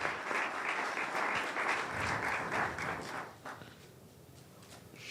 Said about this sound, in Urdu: آئیں کلام کے لیے تالیاں بجائیں گے